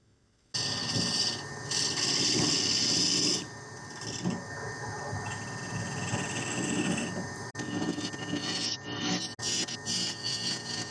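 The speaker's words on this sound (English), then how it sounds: "Switching to my 5/8 bowl gouge." A 5/8 bowl gouge cuts into spinning palo verde wood on a lathe, a close, loud scraping rasp that starts abruptly and varies in intensity with pauses and shifts as the tool moves across the turning blank.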